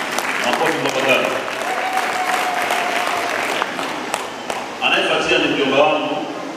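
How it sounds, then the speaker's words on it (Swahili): A congregation applauds Bakari, an engineer who helps build the church, with clapping mixed with voices and cheering that swells again near the end. "Makofi kwa Bakari."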